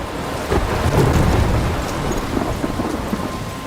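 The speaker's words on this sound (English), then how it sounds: "I'm trapped in a storm?" A thunderstorm in the video game Life Is Strange: steady heavy rain with rolling rumbles of thunder, loud and continuous, with no voices.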